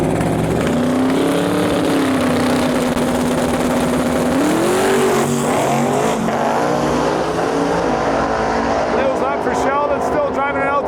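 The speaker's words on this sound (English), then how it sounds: "This thing's gonna lay down a pass." A Pontiac Acadian drag car makes a full-throttle pass at a drag-and-drive event, its engine roaring loud and continuous as it pulls hard, with crowd noise and an announcer talking over it.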